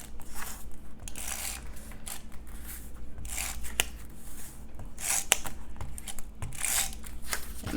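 A tape runner lays adhesive onto craft paper in a series of soft, close rasping strokes and crackles, with brief paper rustles between them.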